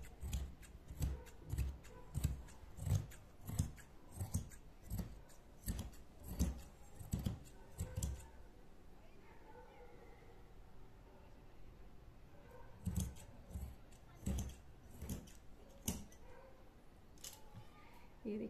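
Scissors snip through fabric being cut for a 12-year-old child's kurti, a quick run of crisp, rhythmic cuts, then a pause before another burst of snipping, close and clear; someone speaks between the cuts.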